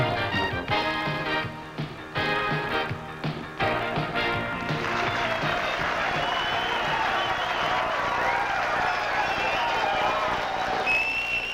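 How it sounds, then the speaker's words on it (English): Lively morning crowd at a Chicago Bears rally, cheering and clapping in a steady, dense wash of noise that builds after a few seconds and holds loud throughout, with scattered voices inside it. "it sounds like we have a lively crowd this morning"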